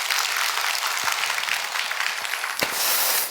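A church congregation applauds during a Wednesday evening worship service, a steady dense wash of clapping that fills the whole stretch and swells louder near the end.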